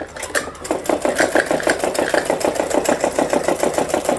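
A sewing machine runs a design line of stitching on a Patiala salwar, a steady fast rhythmic clatter of the needle heard close and alone for a few seconds.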